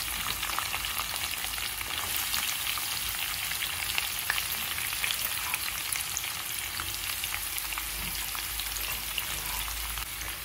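Onion pieces fry in hot oil, a dense, even crackling sizzle that stays steady and fairly close throughout with no voices.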